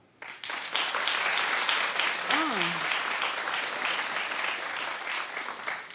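Studio audience applause starts abruptly and holds as a loud, steady wash of clapping, with a brief voice rising through the middle of it.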